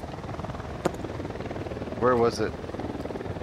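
A helicopter in the video game Ghost Recon Wildlands, a steady rhythmic rotor chop running throughout at moderate level beneath a brief spoken question.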